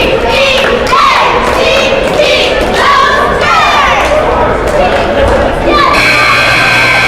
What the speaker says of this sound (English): That title of that cheer was Beat Those Bears